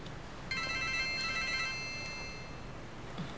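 A telephone rings indoors with a bright electronic trill that lasts about two seconds, steady and moderately loud, with no voices over it.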